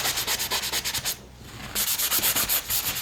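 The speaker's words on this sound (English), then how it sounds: "take my spars with my sanding block," Carbon spars are sanded with a sanding block in quick rhythmic strokes, a brief pause mid-clip, then the steady scratching resumes, close and clear.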